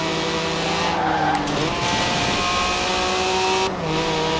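An Alfa Romeo Stelvio Quadrifoglio in Forza Horizon 4 drones under heavy load while its tires squeal and skid. The loud, sustained engine note holds steady, then shifts briefly near the end as if changing gear.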